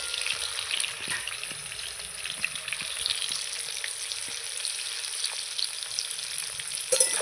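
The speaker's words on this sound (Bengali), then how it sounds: "আলুটা আমি লাল লাল করে ভেজে নেব একটু লবণ দিয়ে দেবো" Potatoes fry in hot oil with a steady, moderately quiet sizzle and occasional faint stirring clicks, continuous and close, without any talking.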